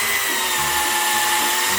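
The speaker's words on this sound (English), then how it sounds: "So I got my drill out and put in some fixings" A power drill driving in wall fixings for a detachable mounting plate, running as a steady whine with a constant hum for about two seconds, close and fairly loud, with no talking.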